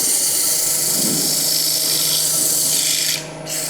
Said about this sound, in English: I don't like sanding at all.